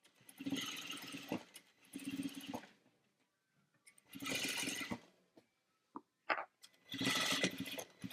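A sewing machine feeds binding along the edge of a three-way shawl vest in several short, close bursts of stitching, separated by brief quiet gaps.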